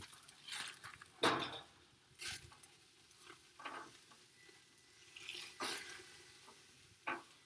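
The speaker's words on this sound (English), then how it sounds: "sorry, my steak was burning." A steak that has been burning in a hot pan, with bursts of sizzling and the clinks and scrapes of a utensil against the pan, coming in irregular spurts with quiet gaps between.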